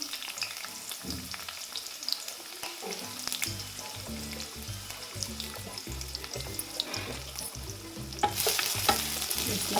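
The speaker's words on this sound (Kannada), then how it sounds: "ಈರುಳ್ಳಿ ಒಗ್ಗರಣೆ ಮಾಡಬೇಕು" Onions and curry leaves sizzle in hot oil for tempering while a spoon scrapes the pan in steady, regular strokes; the hiss grows louder near the end.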